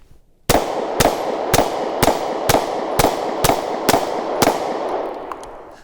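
A Sig Sauer P365 pistol fires nine sharp, loud shots in a quick, even rhythm, each crack ringing out briefly before the next, then silence.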